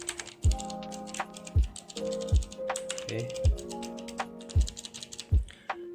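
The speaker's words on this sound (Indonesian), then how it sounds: "DX blue switch, clicky." Typing on a Logitech G Pro X keyboard fitted with clicky blue switches: loud, close, sharp clicky keystrokes in irregular bursts, with a brief spoken word and background music.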